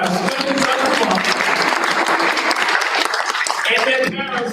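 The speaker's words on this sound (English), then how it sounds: "one last round of applause for all of our students of the month." At a school board meeting, the room applauds the students of the month with lively clapping and cheering while voices talk through it, tapering off near the end.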